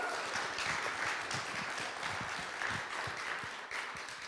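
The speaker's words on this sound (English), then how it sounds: "Round of applause for Mark." Audience applause for a speaker at a Concord Rotary 4-Way Test speech contest, a steady crowd clapping at moderate distance with low murmuring underneath, continuing evenly throughout.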